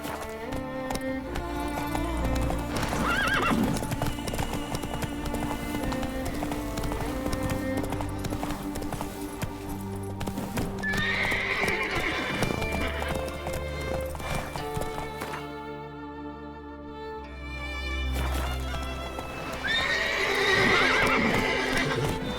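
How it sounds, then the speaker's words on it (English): In The Witcher 3, the horse Roach clip-clops along at a steady rhythmic gait with several loud neighs and whinnies over game music, hooves close and prominent throughout. "That's it, Roach."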